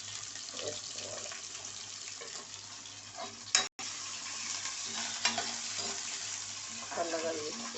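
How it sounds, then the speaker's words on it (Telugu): Thinly sliced large onion with curry leaves frying in a pan while a spoon stirs it, a steady close sizzle broken by scraping stir strokes and a brief clatter midway, with no talk. "ఇది వేస్తున్నాను. ఇలాగా సన్నగా కట్ చేసుకొని వేసుకోవాలి."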